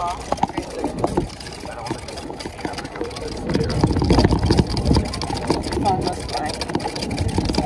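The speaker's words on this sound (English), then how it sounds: "we're driving around on a golf cart" A golf cart drives around a golf course, its motor and wheel rumble steady and close, swelling louder midway, with people talking over it.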